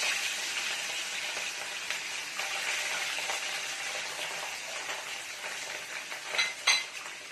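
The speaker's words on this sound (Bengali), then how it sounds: "মাছগুলো আমি আস্তে আস্তে ভেজে নেব" Katla fish pieces fry gently in hot oil in a wok with a steady, faint sizzle throughout, broken near the end by a few soft clinks of a utensil.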